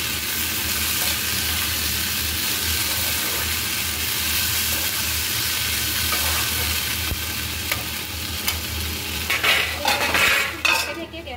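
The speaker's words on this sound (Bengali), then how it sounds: "গ্যাসটা কমিয়ে দিয়ে ফ্রাই করছি" A large whole tomato frying in a pan on a low gas flame, a steady even sizzle and hiss that runs throughout, with louder metallic clatter and scraping near the end, close by and without speech.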